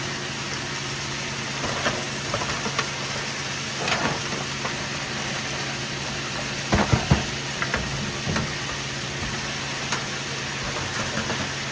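Broccoli and seafood vermicelli stir-frying in a pan in a hotel room kitchen, a steady low sizzle with occasional scraping stirs and clatter, no voices.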